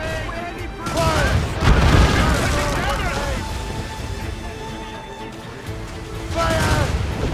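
Naval cannon fire during a sailing-ship battle in Assassin's Creed Rogue, heavy booming volleys rolling in repeated waves, with crew voices shouting over the broadside.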